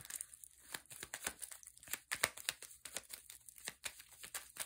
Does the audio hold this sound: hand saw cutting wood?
no